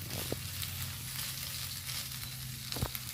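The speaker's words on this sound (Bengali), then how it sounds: "মিক্স করে ভালো করে আলুটা ভেজে নিতে হবে।" Grated potato filling for bread pakoda fries quietly in a pan, a faint continuous sizzle with a couple of brief utensil taps.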